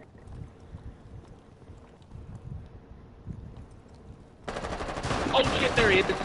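Gunfire in the video game Rainbow Six: quiet, muffled thuds and background noise give way to a loud, rapid burst of shots that builds toward the end.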